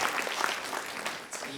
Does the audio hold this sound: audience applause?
yes